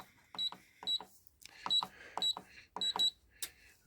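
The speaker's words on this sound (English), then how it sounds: "That's clicked and that's opened." A Sussex 100K digital safe lock gives a series of sharp electronic beeps as the code is keyed in, in short clustered bursts with faint button presses between, close and quiet.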